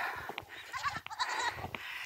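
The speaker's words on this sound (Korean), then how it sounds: "염소들이 집에 가겠다고 소리하는 거예요" Young goats bleat in several short, overlapping cries as they head home at sunset on a hillside near the sea, moderately close with outdoor ambience.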